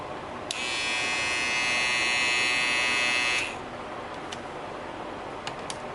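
A Wahl Cordless Detailer Li hair trimmer motor switches on and buzzes steadily at a high pitch for about three seconds, then shuts off, followed by a few faint clicks in a quiet room.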